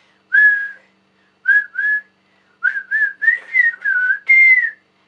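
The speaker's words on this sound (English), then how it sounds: "I can't really whistle and I've been practicing it" Someone whistles the bouncy Ed, Edd n Eddy cartoon theme tune in short, separate bursts of two or three notes, close and clear against silence.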